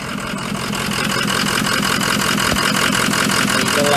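A Ford 6.0 diesel engine from a heavily crash-damaged truck idles close by, a loud, steady rhythmic clatter that holds even throughout with no voices over it.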